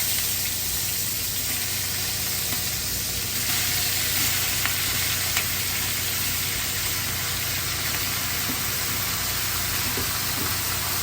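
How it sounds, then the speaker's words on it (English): Beef sizzles in hot oil in a pan for a poi stew, a loud, continuous hiss and crackle close up, with faint scraping from a spatula stirring it. "we're gonna add the beef to the hot pan right now using a spatula"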